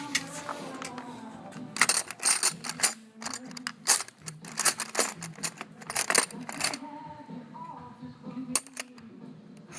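During engine removal, metallic clicks and clatters from a ratchet wrench on the engine come in irregular bursts, close and fairly loud, over a low background hum.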